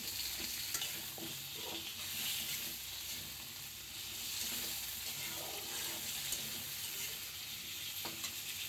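Sweet potatoes and onions fry in a pan with a soft, continuous sizzle, broken by occasional scraping stirs, fairly quiet and with no voices.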